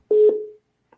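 Telephone tones sound while a call is being transferred: a single clear electronic beep holds for about half a second and fades, then a faint short blip follows.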